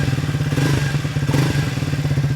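A Triumph 400 single-cylinder motorcycle engine is revved lightly, giving a loud, close, throbbing thump that rises briefly and then settles, with no talk over it.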